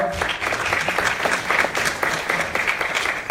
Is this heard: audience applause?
yes